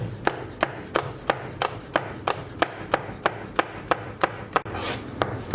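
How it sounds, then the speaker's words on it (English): A knife thinly slicing a pepper on a cutting board for chicken chimichangas: about a dozen crisp, evenly spaced chops in a steady rhythm, close and clear with no talking. "we want to thinly slice this as well, or once again you can chop it finely"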